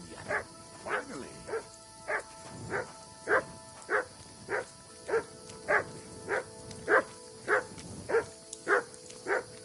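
A dog named Mats barks in the video game Kingdom Come Deliverance 2. The barks come in a steady series of about a dozen sharp, evenly spaced woofs, clear and fairly close, with quiet ambience in between.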